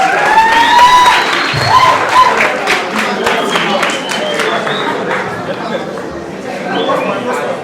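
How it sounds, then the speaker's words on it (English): At the RP Baffour 2024 competition, an audience keeps clapping for the runner-up team, a sustained wash of many hands with crowd murmur and occasional cheers, while someone speaks over the noise. "Please clap for them. Clap for them. They did so well."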